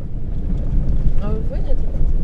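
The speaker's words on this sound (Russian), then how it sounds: "Едем первый раз в Монголии по реке." A vehicle drives through a shallow river in Mongolia, steady rumbling engine and rushing water noise with wind buffeting, and a brief human voice in the middle.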